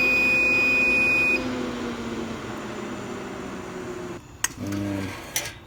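A T962 reflow oven finishing its cycle gives a few short electronic beeps after a steady fan hum. One sustained tone is followed by a brief pair of chirps near the end.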